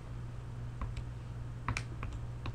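Button presses on a calculator while entering a math expression, a handful of light, sharp clicks spaced irregularly over a steady low hum.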